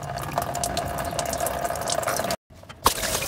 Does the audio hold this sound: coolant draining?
yes